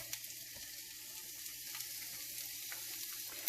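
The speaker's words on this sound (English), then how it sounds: "The pan is hot enough, so I'm going to put the onions and garlic." Onions and garlic frying in hot olive oil, a quiet, steady sizzle with light crackles and a few faint stirring clicks.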